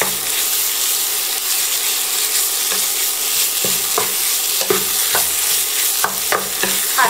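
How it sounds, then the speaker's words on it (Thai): Pork belly stir-frying in a pan with shrimp paste and curry paste, a continuous close sizzle broken by repeated scraping strokes of a spatula that grow more frequent toward the end. "ใส่หมู3ชั้นลงไป495กรัมค่ะผัดให้เข้ากันนะคะ"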